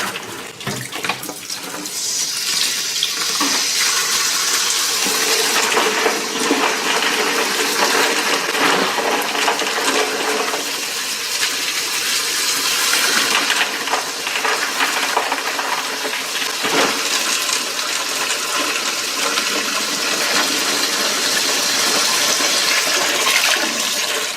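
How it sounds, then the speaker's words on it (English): Tap water runs steadily into a cooking pot for homemade chicken bone broth, a continuous loud rushing and splashing stream that holds for the whole span with slight surges as the pressure is turned up. "Need a little bit more water pressure here."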